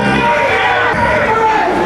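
A wrestling arena crowd cheering, a dense loud roar of many voices sustained throughout, with a general babble of chatter mixed in.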